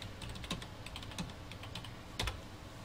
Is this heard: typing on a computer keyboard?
yes